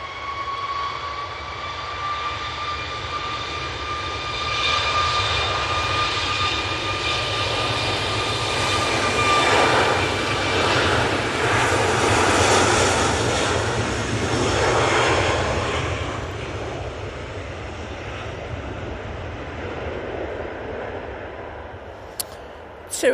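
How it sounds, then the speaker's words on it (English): A TUI Boeing 737 MAX 8 passes at Manchester Airport, its jet engines swelling from a thin whine into a broad roar that peaks mid-pass and then fades away, with no talking. "TUI 737 MAX 8."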